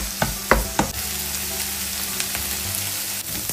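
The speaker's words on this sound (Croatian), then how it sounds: "Skupa sve dinstamo." Onion and peppers sautéing in a pan, a constant loud sizzle after a few sharp knocks of a utensil against the pan at the start, with no talking.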